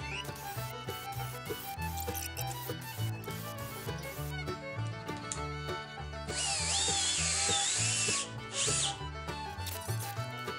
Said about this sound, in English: We pre-drill.